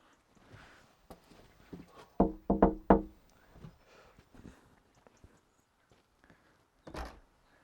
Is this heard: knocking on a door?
yes